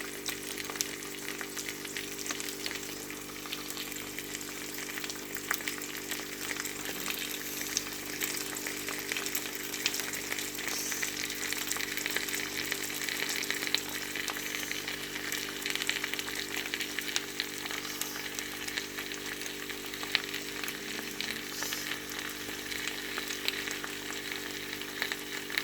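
Onions frying on top of a crispy cheesy potato in a pan give a steady, even sizzle that hisses continuously at close range, with no voices over it.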